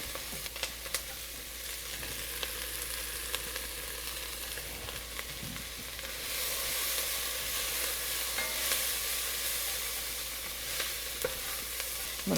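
Garlic and translucent onions sizzle in a beef stew pot while a spoon stirs them, giving a steady, close frying hiss with soft scraping touches throughout.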